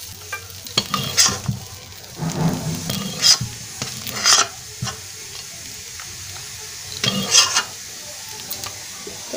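Crab cooking with a little water in a pot, heard as a steady sizzle with bursts of stirring and scraping at irregular intervals, close and fairly loud, with no talking.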